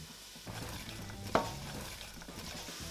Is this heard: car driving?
no